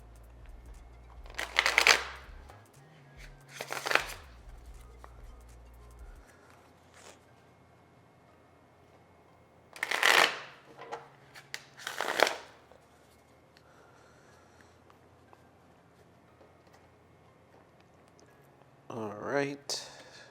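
Tarot cards being shuffled and pulled from a deck, a few brief crisp riffling bursts spaced several seconds apart, close by, with quiet stretches between and a soft rustle near the end.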